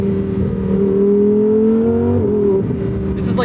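A 2024 Lamborghini Huracan Sterrato engine revs close by, its tone climbing smoothly before dropping sharply at a quick gear shift and pulling again.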